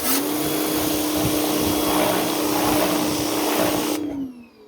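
A Karcher pressure washer runs with a loud, steady, high motor whine and hissing rush of spray that holds for several seconds before cutting off abruptly and winding down.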